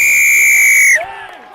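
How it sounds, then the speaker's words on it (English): A referee's whistle at a rugby match gives one long, shrill, steady blast for about a second, loud and near, then cuts off into quieter field and crowd noise. "And it's a whistle"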